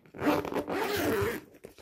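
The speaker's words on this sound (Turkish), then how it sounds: "çantamızı açalım." A bag zipper is pulled open in one continuous close, loud rasping stroke lasting about a second, followed by a couple of small handling clicks.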